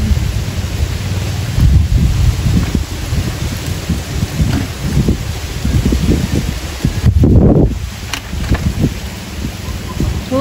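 Heavy rain and gusting wind roar steadily throughout, with a louder blast near the middle, while voices talk underneath.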